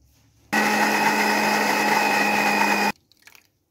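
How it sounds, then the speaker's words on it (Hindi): An electric blender whirs at full speed through mint, green chilies, coriander, garlic and salt for a chutney, starting abruptly after a quiet moment, holding a loud steady whine for over two seconds, then cutting off to faint clatter. "अब इन सारी चीज़ों को हम ब्लेंड करेंगे"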